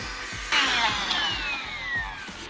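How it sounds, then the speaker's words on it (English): A battery-powered handheld dust blower blasts dust out of a desktop workstation PC, a loud close whooshing hiss that surges near the start and then holds steady with slight wavering, alone without speech. "I've got my hand blower here"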